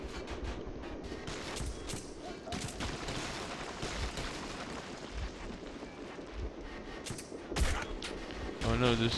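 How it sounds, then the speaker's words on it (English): Enemy gunfire in the video game Metro 2033 rattles in rapid bursts of sharp shots, dense and continuous with louder cracks near the end, mixed with someone talking. "Oh no, they're still shooting at me."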